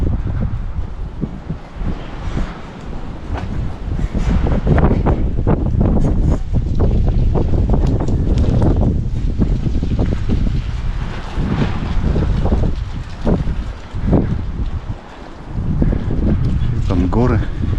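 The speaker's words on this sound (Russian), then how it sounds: "Потому что ветер здесь прям гуляет" Strong, gusty wind on a mountain near Užice, Serbia buffets the microphone in a continuous low roar, swelling and easing throughout.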